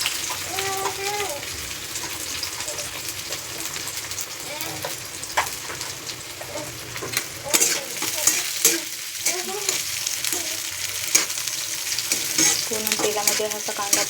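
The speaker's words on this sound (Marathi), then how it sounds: "असा लहान कटिंग केलेला कांदा तो थोडा टाकून घ्यायचा" Finely chopped onion frying in a pan for a dry drumstick vegetable dish, a continuous soft sizzle with occasional stirring scrapes and clatter, while someone talks over it at intervals.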